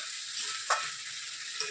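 Chicken sautéing (kosha) in a pan, a steady broad sizzle of frying meat with a brief louder scrape of stirring partway through, close and alone.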